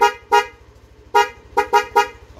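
Six short, loud horn beeps close by from an aftermarket Denso horn on a Yamaha Lexi LX 155 scooter, sounding in an uneven pattern with brief gaps between them.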